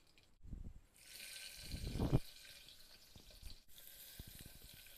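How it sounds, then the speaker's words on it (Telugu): Onion pieces drop into hot oil already fried with cinnamon, cloves and cardamom for a gongura biryani, starting a soft, steady sizzling hiss after a few low thumps and some light stirring. "దాల్చిన చెక్క, లవంగాలు, యాలకులు ఇవి వేగిన తరువాత ఇప్పుడు ఉల్లిపాయ ముక్కల్ని వేసుకోవాలి."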